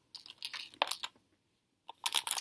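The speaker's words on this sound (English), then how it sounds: "I'm going to pour all my little diamonds in this green container." Tiny diamond painting beads are poured into a green container, giving crisp rattling, crunchy bursts, then a short pause before another spill.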